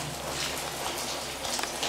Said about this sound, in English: You can hear the water on the tin up there